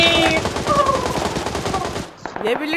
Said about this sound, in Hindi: यहाँ गोलियां चल रही हैं